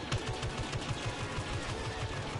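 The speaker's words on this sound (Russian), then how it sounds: "Смотрите, стреляют прямо так вон некоторые" Rapid blaster fire in the Star Wars Battlefront video game, a steady burst of repeated shots in quick rhythm with dense game action behind it.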